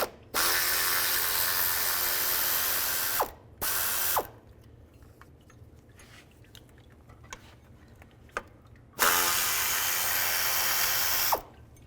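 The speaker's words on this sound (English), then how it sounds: "Use a 10mm socket." Ratchet with a 10mm socket removing bolts from the hydraulic engine mount of a 2006-2011 Cadillac DTS, with two loud, fast rapid-clicking runs of about three seconds each, a short burst between them and quiet handling sounds.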